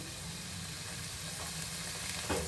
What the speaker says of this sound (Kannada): ಇದೆಲ್ಲನೂ ಈ ತುಪ್ಪ ಅಥವಾ ಆಯಿಲ್ನಲ್ಲಿ ಫ್ರೈ ಆಗಬೇಕಾಗತ್ತೆ